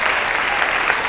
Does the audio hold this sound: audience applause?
yes